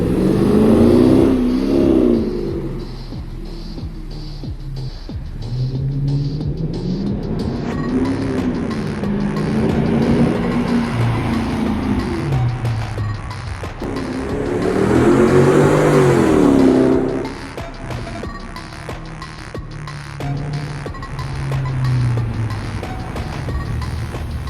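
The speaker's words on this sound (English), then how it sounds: "Is this car still loud? Yes, it is a V8, it is old," A 2003 Mercedes E500 V8 with a muffler delete revs repeatedly, loud and near, its engine note rising and falling in several surges with brief lulls between.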